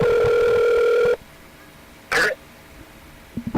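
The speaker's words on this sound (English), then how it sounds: "I'm putting a phone through a microphone." A steady telephone dial tone held close to a microphone during a live radio interview drones loudly for about a second, then cuts off; a throat clear and faint shuffling follow.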